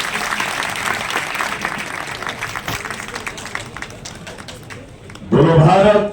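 An audience at a state teachers' national award ceremony in Gandhinagar applauds a speaker with loud, sustained clapping that fills most of the moment, then a voice starts speaking over a microphone as the clapping ends.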